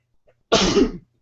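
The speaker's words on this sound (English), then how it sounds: "I had to sneeze there." A single sharp, loud burst from a person, like a sneeze, in an otherwise quiet room.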